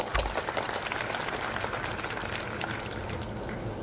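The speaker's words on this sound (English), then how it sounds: "Let's have a big round of applause for them" Applause for students at an Indian Independence Day celebration, a fairly faint, steady wash of clapping from an audience, continuing evenly throughout.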